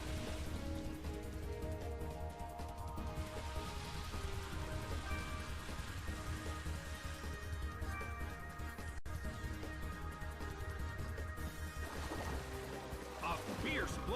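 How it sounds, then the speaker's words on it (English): Pouring rain hisses steadily in the Colosseum in the video game Pokémon Battle Revolution, a continuous wash under game music and battle effects. "It's pouring rain in the Colosseum."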